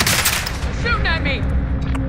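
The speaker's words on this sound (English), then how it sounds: "Shooting at me!" Gunfire in Call of Duty: Warzone, a dense, loud continuous burst of automatic shots and booms with no break, while a radio-style voice speaks over it.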